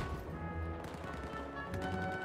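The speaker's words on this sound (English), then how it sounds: "There, one rocket and a few bullets does it." Rapid video-game gunfire and a rocket blast crackle loudly and continuously, with dense overlapping shots filling the whole stretch.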